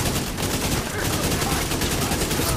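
An automated turret in The Division 2 fires a rapid, unbroken burst of automatic gunfire, loud and dense throughout the short stretch.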